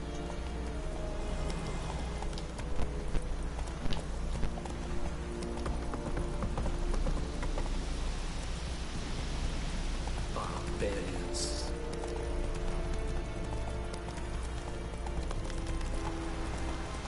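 A horse's hooves clip-clop steadily in the video game The Witcher 3, a continuous rhythmic trot with a soft patter like rain underneath, moderately quiet and sustained throughout.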